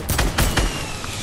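Gunfire in a video game match with snipers: three loud, close shots in quick succession, each a sharp crack with a booming low tail, followed by a fading echo.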